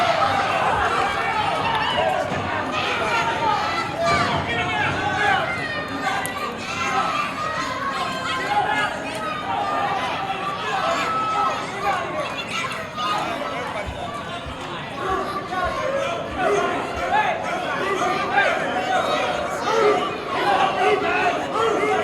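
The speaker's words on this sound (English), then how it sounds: "Crowd chanting, let them fight." A wrestling crowd at a Hurricane Pro Wrestling show chants and roars steadily and loudly for the whole stretch, a dense wall of many voices with no single speaker standing out.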